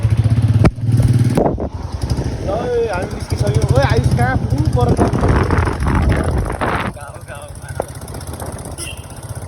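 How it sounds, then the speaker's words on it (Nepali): A Hero XPulse motorcycle engine rumbles and runs steadily up close outdoors, loud and continuous, while someone talks over it and wind buffets the microphone. "अब म बाइक राइड हान्छु"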